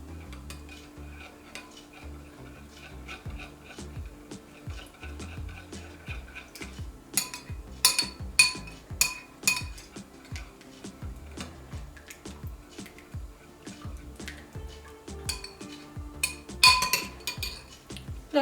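A spoon stirs yeast into milk in a bowl for cozonac dough: a steady run of light scraping and clinking against the bowl, with sharper, louder clinks bunched partway through and near the end, and no voices.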